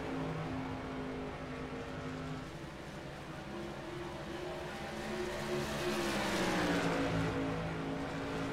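Race cars lapping Phoenix race track, a steady loud engine drone with harmonic tones that rise and swell toward the end as cars close in and pass, with no talk.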